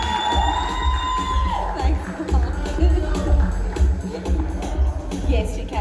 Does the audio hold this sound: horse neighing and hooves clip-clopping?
no